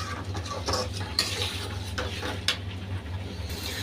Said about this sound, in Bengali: আমটা মশলার মধ্যে নেড়ে নেব